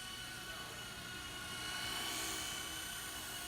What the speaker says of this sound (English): It's a great helicopter for indoors